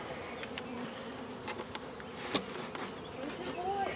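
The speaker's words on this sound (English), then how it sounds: "Junior, look at the bees! See the bees?" Honeybees buzzing around an open beehive during small hive beetle control work: a steady low drone of many insects, close and fairly faint, with a few brief clicks and knocks over it.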